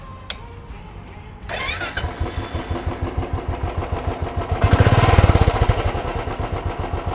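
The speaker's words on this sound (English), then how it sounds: "Let's find out with a typical exhaust note." A Royal Enfield single-cylinder 350 motorcycle starts and settles into a rapid, even thumping exhaust beat, swelling louder midway before easing back.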